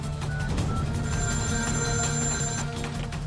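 A telephone bell rings steadily in a repeating electronic pattern, loud and close, with no voices over it.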